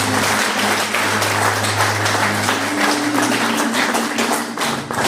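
An audience at a public gathering claps in dense, sustained applause that stays loud and even throughout, with a low hum beneath.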